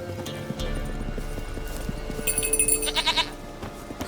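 Hooves of a goat clip-clopping along in The Witcher 3, a steady run of light hoof taps under game music and ambience, with a brief bright chime partway through.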